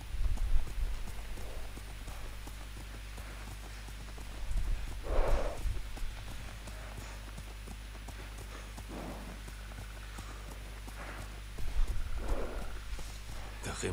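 A horse's hooves clip-clop at a walking pace in the video game Ghost of Tsushima, faint and intermittent, in short clusters of steps against a quiet low background.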